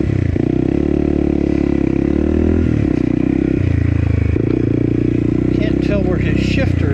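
Motorbike ridden off-road at Windrock after climbing a steep hill, its engine running steadily close by throughout, with rattles and scrapes on top and a rider talking over it.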